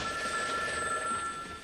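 A telephone rings with a steady electronic trill that holds continuously and fairly loud, with no voices.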